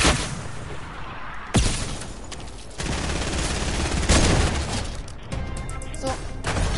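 Video game gunfire: dense bursts of rapid shots and booming blasts, loud and continuous with sharp onsets, under light talk.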